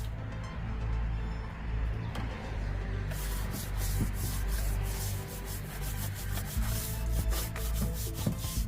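A flagged-tip nylon brush scrubs inside a car engine bay, producing a continuous close rubbing and scratching with repeated back-and-forth strokes over a low background rumble.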